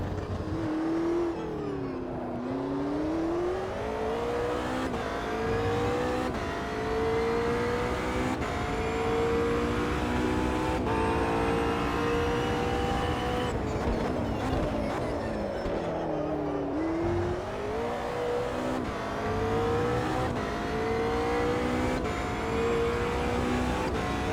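A race car engine in the Automobilista 2 sim racing game holds a loud, steady howl through a full lap at Spa, its pitch climbing through each gear, dipping for braking and rising again, constant and close throughout with no talk.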